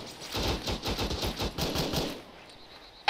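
Machine gun fire in the video game ARMA 3 rattles in a rapid, rhythmic burst of shots, moderately distant and steady for about two seconds before fading into quiet background.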